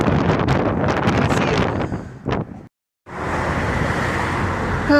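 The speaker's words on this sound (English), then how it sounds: "Hopefully I'll be at a spot where the traffic won't be so loud and maybe some of the wind might be blocked off." Strong gusting wind buffets the microphone outdoors while road traffic rushes past, loud and continuous, then cuts out briefly before the roar of wind and passing cars resumes.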